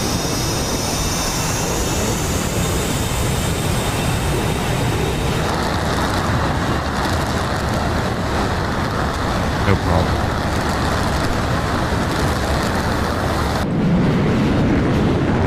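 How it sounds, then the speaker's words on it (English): Naval jet engines roar steadily in a DCS World flight simulation as the aircraft takes off from a carrier without a catapult, a loud continuous broadband rumble with a shifting whine, and no one speaks over it. "Even with your tiny little pretend engines, your tiny little child-safe toy engines, Greta-friendly, quiet engines, you can still take off"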